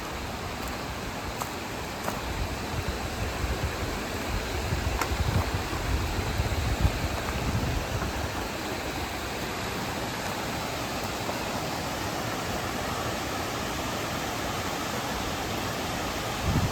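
Tilari waterfalls pour in a steady broadband rush, a constant, moderately distant roar of falling water with no breaks and no voices.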